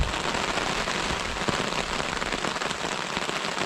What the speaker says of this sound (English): It's not thunder, it's not lightning, it's just rain.